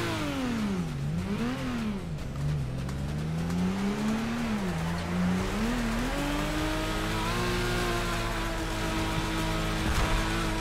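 A drift car's engine revs in the Torque Drift video game, a continuous loud whine that sweeps up and down repeatedly before settling into a steadier high-pitched drone, with no voices over it.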